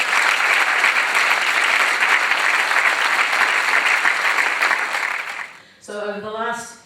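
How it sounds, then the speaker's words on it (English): Community audience applauding at a public consultation launch, loud sustained clapping that cuts off, followed by a speaker's voice. "Perhaps another round of applause."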